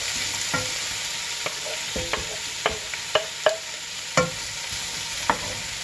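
Onions and garlic frying in a pan with potatoes and a bay leaf, a continuous close sizzle broken by several sharp scrapes and taps of a spoon stirring.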